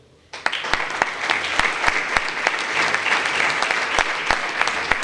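Audience applause fills the room at an exhibition opening, a dense, steady round of clapping from a gathered crowd that starts abruptly and carries on evenly throughout, with a few sharper individual claps standing out near the front.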